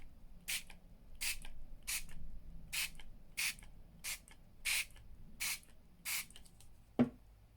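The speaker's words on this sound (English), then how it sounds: "And then I am going to spray this with some," Nine short hissing bursts of shimmer spray in a steady rhythm, close and crisp, followed by a small clunk at the end.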